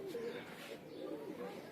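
Pet pigeons coo softly in low, rounded bursts, several overlapping calls rising and falling over a steady murmur, fairly close and moderately quiet.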